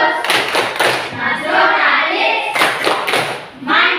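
A classroom performs the rhythmic tepuk PPK chant, with sharp group hand claps in quick patterns alternating with voices chanting together.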